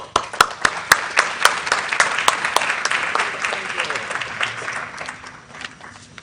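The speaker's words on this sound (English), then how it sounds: "Please join me in offering a warm round of applause to all of our panelists." A symposium audience applauds its panelists, a dense wash of many hands clapping with a few sharp, close claps standing out. It is steady at first and gradually thins toward the end.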